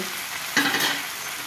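Green chillies dropped into pumpkin frying in a pan set off a brief, louder sizzling burst over a steady hiss of oil, with no talking.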